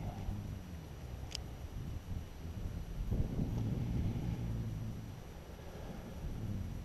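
Steady wind gusting across the open water of a lake while a fishing boat cruises along, a continuous low rushing roar with buffeting on the microphone and no talk.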